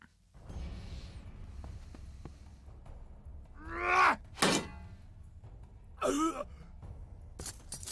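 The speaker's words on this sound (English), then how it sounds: "They bashed him into terrain" Turn-based combat in Urtuk: The Desolation: a bash attack lands with a heavy thud around the midpoint, wrapped in strained grunt-like vocal effects, with another groan and a soft thump following over a low background drone.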